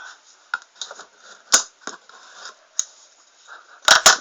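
Scissors cut through packing tape on a Nerf Rampage box in a few short, sharp snips and crunches separated by quiet pauses, heard close up.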